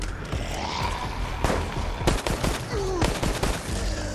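Rapid gunfire bursts crack out in Resident Evil Resistance, loud overlapping shots and short volleys with a few isolated reports, close and sharp over a tense in-game background.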